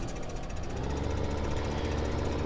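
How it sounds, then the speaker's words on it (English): A Case tractor's engine warms up in Farming Simulator 2015, a close, steady diesel chugging with a rapid knocking rhythm that runs alone throughout. "we have got the case tractor warming up"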